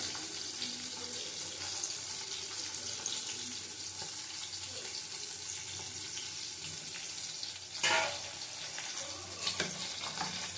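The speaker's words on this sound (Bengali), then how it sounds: "জল দিয়ে দেবো জল মানে এটাই সিদ্ধ করার এই জলটাই আছে এটা দেবো বেশি জল দেবো না" Water is poured into mutton curry in a pan, a steady hissing, rushing wash over low sizzle throughout, with a brief louder splash near the end and no talking.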